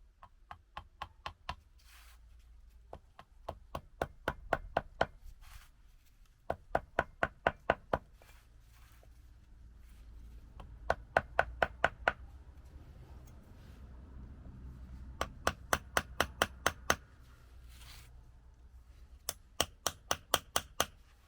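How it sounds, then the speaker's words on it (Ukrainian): Sharp metallic hammer taps drive an axle oil seal into place on a heavy walk-behind tractor, in quick bursts of four to eight strikes separated by short pauses, close and loud over a faint low hum. "Молоток та полумісяць нам в поміч."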